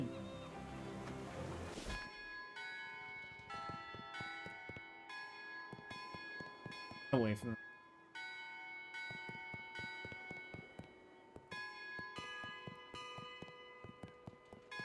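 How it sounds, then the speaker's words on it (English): Bells chime a simple nursery melody, Mary Had a Little Lamb, in the video game Shadows Over Loathing, steady tonal strikes ringing through the whole stretch after a louder opening burst, with a brief faint voice near the start. "The bells are literally playing Mary Had a Little Lamb."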